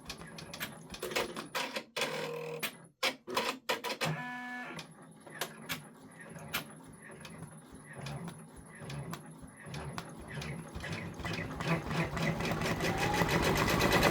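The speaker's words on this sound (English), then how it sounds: "it's going to do the placement stitches" Computerized embroidery machine sewing placement stitches for dark green triangles on an OESD freestanding pumpkin quilt block, a steady rapid mechanical chatter that builds and grows louder toward the end after a few uneven starts.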